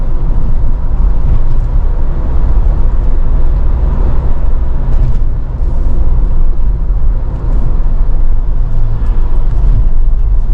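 Car engine droning steadily while driving at speed on a downhill road, a constant loud low rumble with road noise and a brief dip as the driver shifts into fifth gear.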